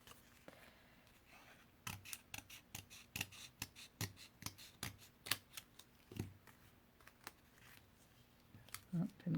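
Scissors trimming a paper window card on a silicone mat, a series of close, crisp snips in an irregular rhythm, with a soft voice briefly audible.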